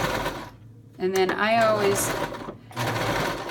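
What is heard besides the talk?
sewing machine backstitching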